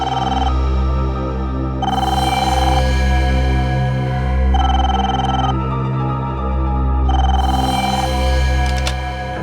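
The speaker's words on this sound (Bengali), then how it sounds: "আমি ফোন ধরছি।" A telephone rings loudly and steadily nearby, its electronic tone repeating in regular bursts over a constant low hum, with no one talking.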